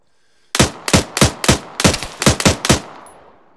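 Automatic gunfire in the military game Arma, fired from a nearby house window: eight loud, sharp shots in an uneven burst with a short reverberant tail, no talking.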